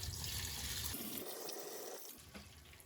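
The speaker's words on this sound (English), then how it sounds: "I'm going to fill this up to the max with water." Water runs steadily from a tap into a Ninja Foodi pressure cooker pot filled with onion, carrot and kombu, a soft continuous rush that fades slightly toward the end.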